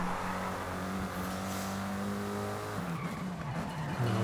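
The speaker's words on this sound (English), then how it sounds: "Now hitting the brakes hard." A race car in Forza Horizon brakes hard, its engine drone dropping in pitch as tires screech and squeal, loud and continuous throughout.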